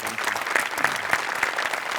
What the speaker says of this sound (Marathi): तुझ्यासाठी एकदा स्पेशल टाळ्या